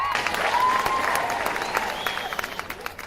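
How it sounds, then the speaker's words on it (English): Guests at a sangeet night applaud both families, a burst of lively clapping from a crowd that swells early and then gradually tapers off, with faint whoops and chatter mixed in. "So round of applause for both families."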